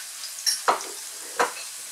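Pork trotters fry and sizzle in a pan for Cuban-style trotters in sauce, with a steady soft sizzle and a few brief scraping stirs close by.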